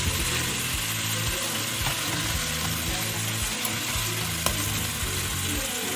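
Artichoke sizzles in a pan for Valencian arròs caldós, a steady dense frying hiss with a low rhythmic clatter of stirring underneath, close and continuous without speech.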